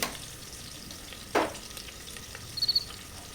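Cumin seeds sizzle in hot oil in a pan, a steady soft frying hiss with one brief louder crackle burst near the middle and a few small pops toward the end.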